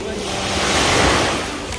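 Sea waves wash onto a sandy beach in Palma de Mallorca, a steady, fairly loud broadband surf that swells slightly toward the middle, with some wind noise over the microphone.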